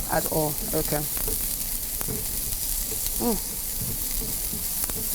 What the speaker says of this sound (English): Okay, saute that for a bit.